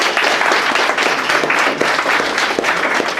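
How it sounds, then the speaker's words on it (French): Loud, continuous applause from an audience at a tech user-group meetup, a dense wash of clapping that fills the whole stretch without a break. "On peut l'applaudir."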